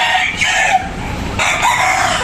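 A stag gamefowl rooster of the Sanino S White line from a game farm crows loudly and close, a continuous strained crow filling the whole short clip with a brief break midway.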